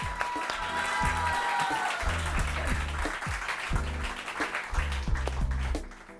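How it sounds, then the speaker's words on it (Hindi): Studio audience applause on a Pakistani morning television show, a steady broadband patter of many hands sustained for several seconds over a looping bass-heavy music bed, tapering off at the end. "आप लोग तालियां बजा दीजिए"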